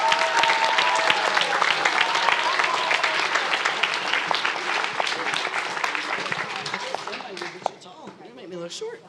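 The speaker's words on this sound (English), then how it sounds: "Let's give them an extra round of applause for that." An audience at a Lake Ridge Lancers end-of-season awards ceremony gives a sustained round of applause, dense and steady, tapering in the last seconds as a voice begins speaking.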